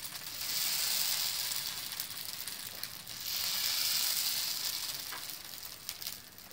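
Dosa batter sizzling on a hot griddle, a soft, even hiss that swells and fades, fairly quiet and with no talking.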